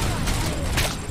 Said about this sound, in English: Oh, he threw a grenade.